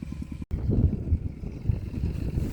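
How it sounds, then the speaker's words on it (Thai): Outdoors, wind buffets the microphone in a continuous low, rumbling roar that gusts unevenly, with one brief dropout near the start. "เสียงลมก็วีวี"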